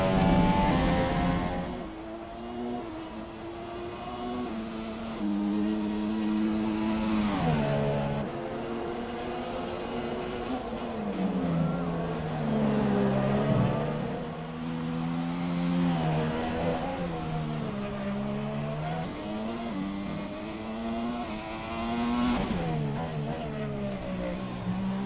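A Formula 1 car from the F1 2017 racing game on a qualifying lap at Singapore, engine screaming loud and close throughout, pitch climbing through gears and dropping sharply on braking several times, with no talk.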